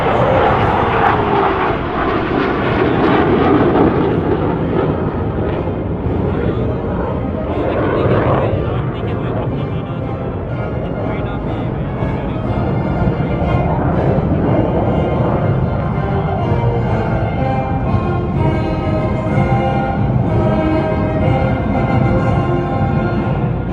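PLAAF Ba Yi aerobatic team jets fly at the Singapore Airshow 2020, a loud, sustained jet roar swelling and fading as they pass, with a commentator speaking over it.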